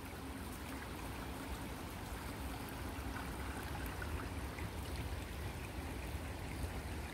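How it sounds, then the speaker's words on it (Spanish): Stream water running under a small bridge in the mountains, a continuous broad rushing and trickling wash, steady and fairly close with no talking. "aquí corre el agua"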